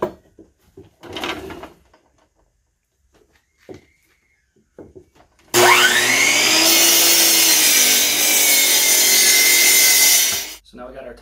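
Wooden board being cut for a rustic farmhouse lantern top by a power saw that bursts on loudly after a few soft handling knocks, whining steadily through the wood for about five seconds before cutting off.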